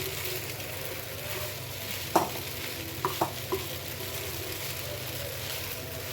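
Maggi noodles being stirred with masala in a pan: a soft, steady frying hiss with a few distinct spoon scrapes clustered in the middle, close and quiet, no speech.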